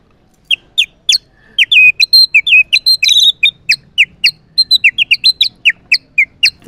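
A water whistle imitates a fantail's call: bright, quick chirping notes in irregular bursts, loud and close, with no talking.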